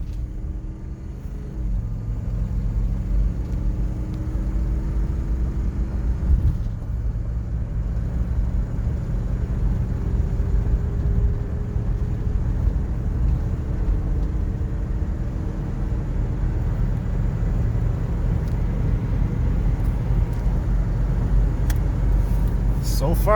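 A Ford Explorer with a freshly rebuilt transmission cruises onto a freeway, a steady low engine and road rumble running throughout with subtle changes as the gears shift.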